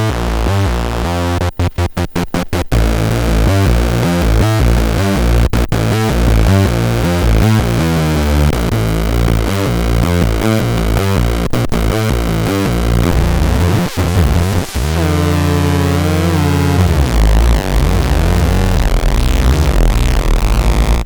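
Heavily distorted, tube-style high-output effect with harsh clipping, driving loud dense music throughout with brief dropouts and stuttering breaks, no voices.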